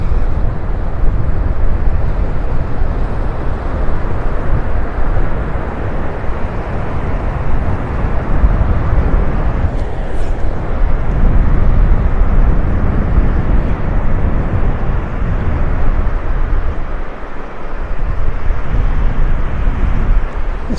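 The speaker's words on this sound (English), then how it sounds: "That wind is strong." Strong wind blowing hard across a beach in North Naples, Florida, roaring steadily into the microphone as a loud, continuous low rumble with gusty buffeting throughout.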